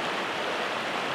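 Rushing white water at the lower end of a trout-fishing river rapid, a steady broadband roar filling the clip with no breaks, close and constant.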